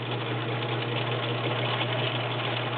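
A Viking Husqvarna Selectronic 6570 sewing machine runs a stretch stitch in regular gear, giving a steady, close, continuous mechanical whir with a fast even rhythm and no pauses.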